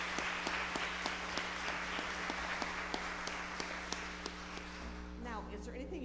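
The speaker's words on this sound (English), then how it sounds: "Can we welcome them with our applause?" Church congregation clapping to welcome guests, a fairly sparse, moderate patter of hands over a steady low electrical hum, with a voice starting up near the end.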